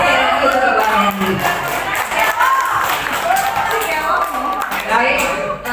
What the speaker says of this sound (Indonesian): tepuk tangan yang meriah sekali lagi untuk Ibu Hendy